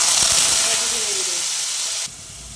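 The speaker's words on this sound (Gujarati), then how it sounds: "સિંગદાણા ઉમેરી સિંગદાણાને આપણે સરસ ફ્રાય કરી લઈશું એકદમ ક્રિસ્પી થાય ત્યાં સુધી" Peanuts frying in hot oil in a pan until crispy for a potato poha recipe, giving a loud, steady sizzle and hiss up close that cuts off abruptly near the end.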